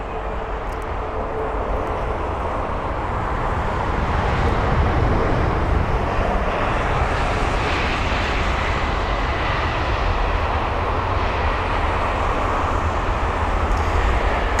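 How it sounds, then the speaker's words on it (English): An Airbus A320neo arriving from Amsterdam lands at London Heathrow with a loud, continuous broadband roar of engines and airflow that swells slightly and holds steady throughout. "Here's another neo, but this one is going to be the A320neo from Amsterdam"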